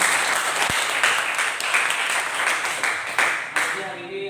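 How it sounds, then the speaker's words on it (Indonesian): Group applause at a school presentation in a classroom, dense steady clapping from many hands lasting several seconds with a few voices mixed in before it fades at the end. "Tepuk tangan buat kita semua dulu"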